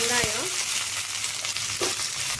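Mustard seeds and curry leaves hit hot oil in a pan with a loud, close, crackling sizzle that pops and spits throughout the short burst.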